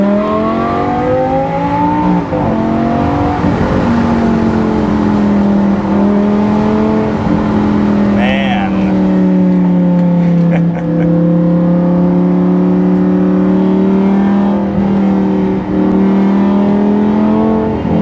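A 2014 Lamborghini Gallardo LP550-2 engine revs and drones steadily from inside the cabin, pitch rising then holding as the car accelerates in first gear, loud and continuous.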